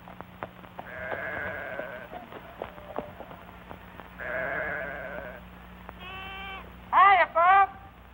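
Sheep on a ranch bleat two or three times near the end, clear and fairly close, after a quieter stretch of other sound.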